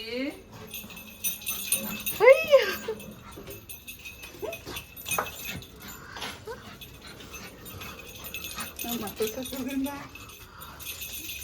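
A puppy gives high, thin whimpers and a few short yips at close range, mixed with people talking around it and light background clatter.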